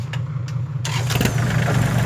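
A farm tractor brought in to help move a stuck vehicle cranks with a few short bursts, then its engine catches and runs with a rough, loud rumble.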